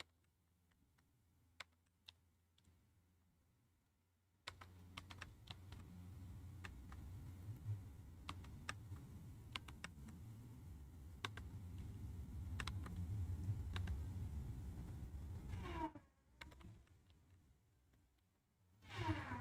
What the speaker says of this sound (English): my keyboard is using tactile keys. So yeah, the sound is quite loud.